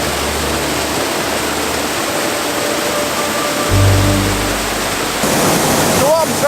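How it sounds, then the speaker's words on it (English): A waterfall at High Gelt pours right beside the listener as a loud, constant rushing roar filling the whole clip, with a brief low thump near the middle. "we're right next to this waterfall"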